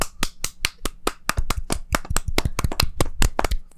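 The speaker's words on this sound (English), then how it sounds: "give a round of applause for the tech aide real quick" A small group clapping close by in a podcast setting, loose and uneven individual claps that come in bursts over several seconds, with no talking.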